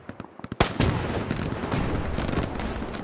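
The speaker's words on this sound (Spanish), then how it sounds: "Can this tank stop shooting?" A tank fires in a video game, with a sharp cannon blast after a few lighter shots and then a sustained rumbling roar of gunfire and explosions, loud and close.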